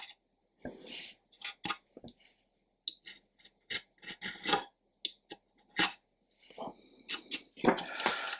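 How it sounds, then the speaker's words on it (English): Plastic parts of a Trumpeter 1/200 Scharnhorst model ship being trimmed at the ends, giving quiet, close, irregular snipping and scraping clicks in short bursts. "There we go, nice and uniform, and we can trim away the ends there."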